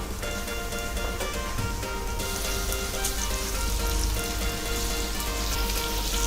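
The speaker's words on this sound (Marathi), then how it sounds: "हा कांदा चांगला लाल होईपर्यंत आपल्याला भाजून घ्यायचा आहे." One large sliced onion fries in a spoonful of oil for a Kolhapuri mutton rassa, giving a steady, close hiss and crackle that runs alone throughout.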